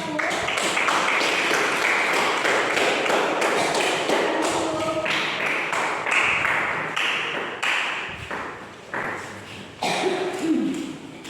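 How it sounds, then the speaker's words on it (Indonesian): Classroom applause for a student group after their presentation, a dense burst of many hands clapping up close that gradually thins and tapers, with a few scattered claps and brief voices near the end. "Oke, beri aplaus ke kelompok 1."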